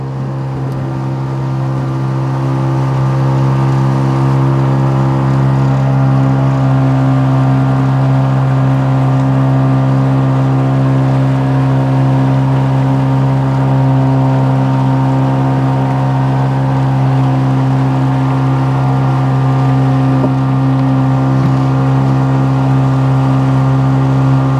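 A heavy passenger ferry motor on the Saramacca Canal drones steadily and loudly throughout, a deep constant hum with a faint whirring overtone and no voices.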